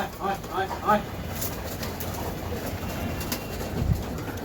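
Several soft pigeon coos at the start, then continuous background chatter and chirps, with a brief flutter near the end.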